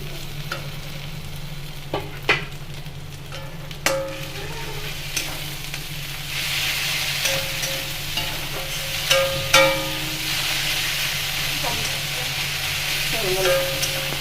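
Onion and green chili paste frying in a pan, giving a steady loud sizzle with spoon clinks and scrapes scattered throughout as it is stirred, close up and without talking.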